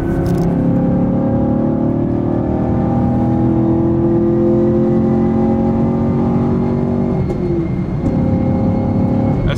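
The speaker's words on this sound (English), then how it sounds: "the car kind of sounds like you're shaking a spray paint can when it pops and crackles" A Chevrolet Camaro SS 1LE engine drones steadily and loudly, with a rich low tone and gently shifting pitch; no distinct pops or crackles stand out.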